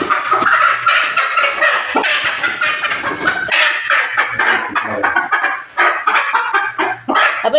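A native country hen squawks and clucks loudly and close by for several seconds, agitated calls tumbling over one another with brief gaps.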